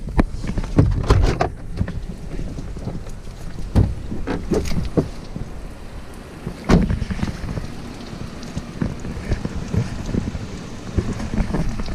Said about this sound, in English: Man, this is crazy with the flooding, and I basically washed my Jeep Rubicon.